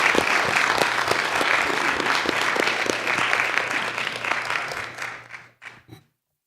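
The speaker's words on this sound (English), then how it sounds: "a round of applause for Thomas for all those great years" A meeting room audience at a citizens advisory board meeting applauds a retiring federal employee, a steady round of clapping that thins out and ends with a few last claps.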